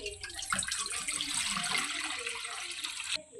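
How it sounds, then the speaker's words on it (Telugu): Water pours steadily into a pan on the stove for chicken dum biryani, a continuous hissing splash lasting about three seconds before stopping abruptly. "ప్యాన్ పెట్టుకొని అందులో వాటర్ వేసుకోవాలి"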